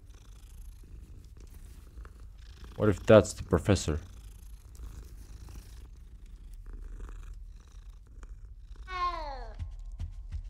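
A cat in the Hogwarts Legacy video game gives a short, rough, fluttering purr of a few pulses, followed later by a voice speaking.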